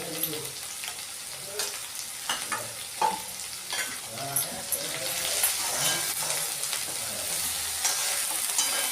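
Onion sautéing in a pan with salt and sugar for kanda batata poha, a soft continuous sizzle broken by repeated scraping and stirring clicks, close and fairly quiet.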